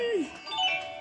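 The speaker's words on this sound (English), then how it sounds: "We're enjoying the doorbell." Doorbell in a house, a brief electronic chime with a falling first tone and a couple of higher notes, heard fairly faintly under people talking.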